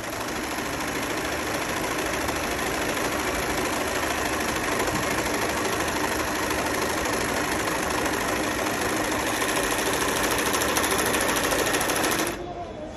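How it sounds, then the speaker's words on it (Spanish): Singer Heavy Duty 14HD854 overlock serger stitching a four-thread overlock seam, a loud, close, continuous mechanical whir that runs steadily for about twelve seconds and then stops abruptly. "y comenzamos a coser."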